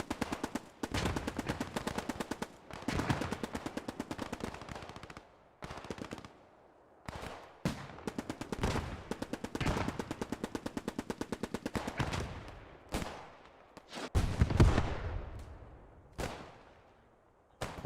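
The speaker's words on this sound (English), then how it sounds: "Marcus makes it to cover that MP40, but he gets sprayed as Webb holds down the corner with that Bren." In the video game Post Scriptum, a Bren light machine gun and an MP40 submachine gun fire long rapid bursts with short pauses between them, some shots crisp and near, others echoing, with no talking.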